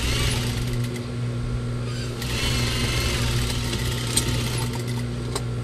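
A sewing machine stitching the back neck of a graduation toga gown runs with a steady, droning mechanical hum, close and moderately loud, with faint clicks over the motor.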